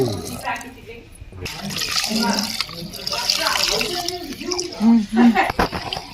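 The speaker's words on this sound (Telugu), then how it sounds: "ఇప్పుడు మీరు వేసుకున్న రైస్కి తగ్గట్టు వాటర్ వేసుకోండి" Water is poured into tomato rice in a cooker, a splashing, gurgling fill close by that grows fuller as it goes, with a voice speaking briefly near the end.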